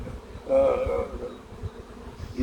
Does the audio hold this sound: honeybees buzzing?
yes